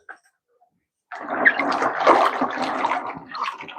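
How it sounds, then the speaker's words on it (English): Running water pours and splashes steadily as tripe (matumbo) is rinsed by hand in a home kitchen, starting abruptly after a second of near silence and continuing at a fairly loud, even level. "And then you rinse again. You remove again until it's clean now."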